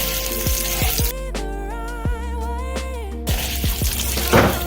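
Vermicelli noodles for Mexican fideo are stirred in a hot pan with frequent scraping knocks. A clear harmonic tone runs through the middle stretch and soft background hiss continues throughout.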